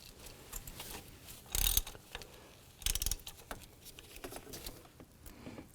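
A ratchet with a 19mm socket loosens the coolant temperature sensor on a 2003-08 Nissan Maxima, giving quiet clicking and two short bursts of rapid ratcheting close by, with no talking.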